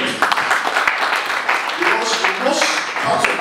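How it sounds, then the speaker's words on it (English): An audience at an event with a state governor and an ambassador gives a round of applause: moderate, uneven clapping mixed with chatter and voices, continuing throughout at mid distance. "can we give you a round of applause?"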